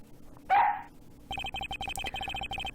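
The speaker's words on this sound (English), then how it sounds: "I have requested the assistance of a dog in our search for the Yatagarasu." A dog barks once in the Ace Attorney Investigations video game, a short, loud yelp standing alone, followed by a steady rapid run of clicking text blips.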